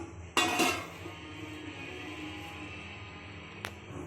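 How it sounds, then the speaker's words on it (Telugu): A metal lid is set onto a cooking pot of egg biryani, giving a sharp clanking clatter that rings briefly, followed by a quieter simmering background and one faint later clink. "ఇప్పుడు మూత పెట్టి ఉడికించుకుందాం."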